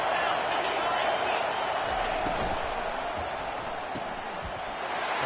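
A football stadium crowd roars steadily for the defense on a big third down, a broad, sustained wash of noise while a commentator speaks over it.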